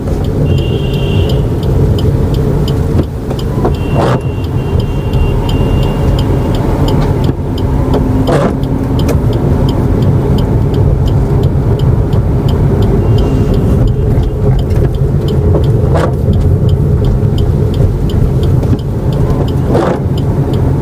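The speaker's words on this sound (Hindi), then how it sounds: "गाड़ी आ रही है।" A car drives along a road in stormy weather with all four lights on, a loud steady engine and tyre roar inside the cabin lasting the full stretch, with a few brief clicks and a faint beeping tone.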